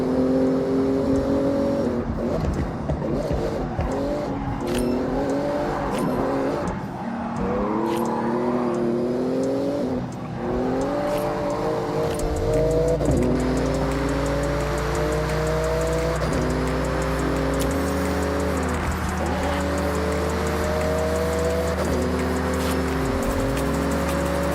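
A Porsche engine in a racing video game revs hard and accelerates through a speed zone, running up and down through the gears. The sound is loud and continuous for about twenty-five seconds, with no talking.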